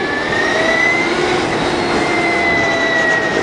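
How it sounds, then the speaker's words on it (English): Steady rushing wind while riding a Victory Empulse TT electric motorcycle, a continuous broadband roar with thin, faint motor whine tones running underneath and no engine rumble. "All I hear right now is wind"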